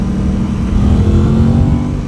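A restricted 660 sport motorcycle pulling hard through the gears into third, a loud, close engine drone with steady harmonic tone, no speech.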